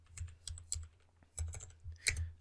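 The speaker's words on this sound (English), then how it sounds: "Type in the name" Fingers tap on a computer keyboard, with bursts of short, close keystrokes at an uneven rhythm and a brief pause partway through. The sound is quiet and there is no talking.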